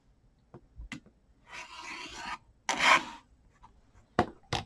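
Quilt fabric squares being trimmed along a ruler, two short rasping cutter strokes between soft taps and handling clicks, close and fairly quiet with no voices.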